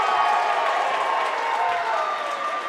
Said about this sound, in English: Crowd's getting back into it again